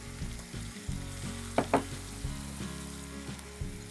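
Onion, tomato, capsicum, carrot, beans and cauliflower sauté together in a pan for vermicelli biryani, giving a soft, low sizzle with a couple of brief utensil clinks partway through.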